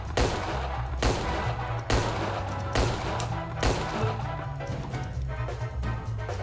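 Gunfire in the Empire of Sin video game, a loud string of closely spaced shots with several heavier blasts at roughly one-second intervals, continuous and dense.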